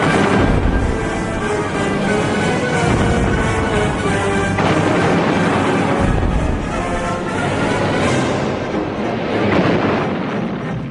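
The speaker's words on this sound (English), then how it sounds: "It took a fearsome bombardment from the task force warships to drive the defenders from their positions." Task force warships deliver a heavy naval bombardment in wartime island fighting, with dense, continuous booming and crashing blasts rolling one after another, loud and close.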